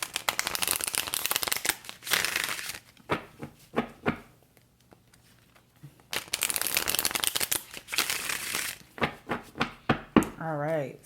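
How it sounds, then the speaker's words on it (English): Tarot cards are shuffled by hand in repeated bursts of riffling and slapping, close and crisp, separated by quiet pauses, with a voice heard speaking in between. "I'm going to shuffle again"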